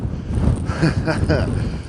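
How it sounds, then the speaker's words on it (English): Strong wind buffets the microphone with a continuous low roaring rumble near a hilltop pond in a food forest, and muffled voices sit underneath. "It's so windy."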